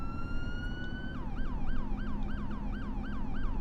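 Police car siren in a police simulator video game set in New York City, a steady rising tone that switches to a fast repeating yelp after about a second, loud and continuous throughout with no talking.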